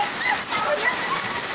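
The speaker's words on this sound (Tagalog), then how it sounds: "Oo, oh, ulan, no?" Steady rain pours down during an outdoor get-together where friends bathe in it, a dense, close, continuous hiss of drops hitting surfaces with no pauses and no talking.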